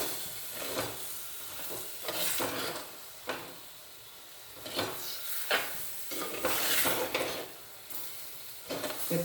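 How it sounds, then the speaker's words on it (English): Jackfruit and potato pieces stirred into a masala curry in a pot: repeated scraping and swishing strokes over a low sizzle, close by, in an uneven rhythm, with no voices. "Now I'll add this jackfruit and the potato."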